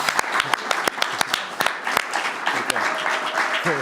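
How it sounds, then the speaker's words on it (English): Close, dense audience clapping fills a symposium hall on global ethics, law and policy, loud and steady throughout with sharp individual claps standing out and faint voices beneath. "let's have a final round of applause for Brad Shingleton"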